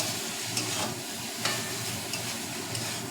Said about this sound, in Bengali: এবার আমি পুঁই শাকটা দিয়ে দেবো, সিদ্ধ করা পুঁই শাকটা দিয়ে দেবো, দিয়ে একটু কষাবো ভালো করে।